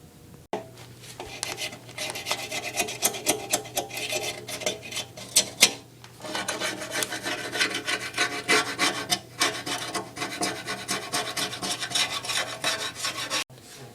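A scraper rasps oil residue off the oil pan gasket mating surface of a Jeep in repeated close strokes, with a brief pause near the middle.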